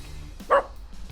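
Puppies play-fighting give one short, sharp bark midway through, standing out against quiet background rumble.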